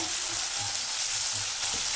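Tomato, onion, capsicum and turmeric temper in hot oil for avalakki upma, producing a constant, close, crackling sizzle with no voices.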